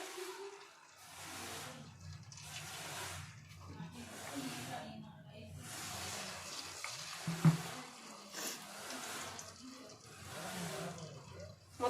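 Purnam dumplings frying in hot oil over medium heat, a steady soft sizzle with gentle bursts running throughout, while someone talks over it.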